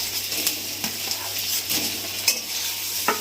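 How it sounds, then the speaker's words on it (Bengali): Fried potatoes sauté in a pan with a dried red chilli paste, giving a close, soft sizzle broken by irregular sharp scraping stirs against the pan, with no one speaking. "ভাজা আলুগুলো দিয়ে দিচ্ছি,"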